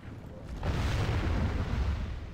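Artillery fires on a tower during a siege in Third Age Total War: after a quiet start, a deep rumbling boom breaks in and gives way to a sustained low roar of battle and impacts, moderately loud and without speech.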